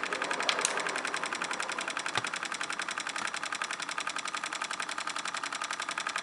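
A small walking beam Stirling engine runs, giving a fast, even mechanical ticking and clatter that repeats steadily throughout, close and clear, with one sharper click near the start.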